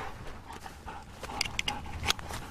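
A two-year-old Belgian Malinois police dog whimpers and pants softly, with a few sharper high whines near the end over a steady background hum.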